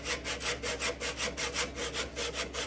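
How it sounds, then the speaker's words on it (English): Rhythmic back-and-forth rasping of sandpaper on wood, steady strokes about four per second, close and clear with no voices. "And so now we are sanding the left side of our kerf."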